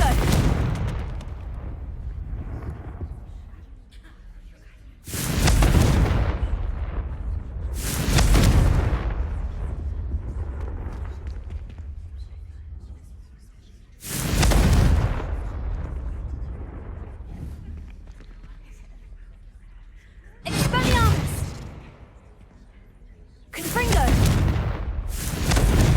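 Repeated Confringo blasting-curse explosions in Hogwarts Legacy: five or six loud, booming bursts spaced a few seconds apart, each with a sharp crack that decays into a long rumble over a steady low game backdrop.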